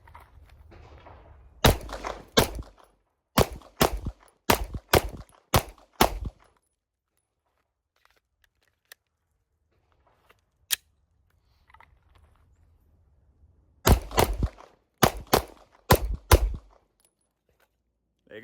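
A stock Glock 19 pistol fires in two rapid volleys of sharp, loud, close shots, about six reports each, separated by a long quiet stretch with faint handling knocks.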